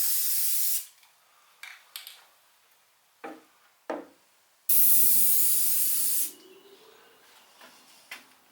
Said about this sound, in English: I'm going to go with a satin black combination paint primer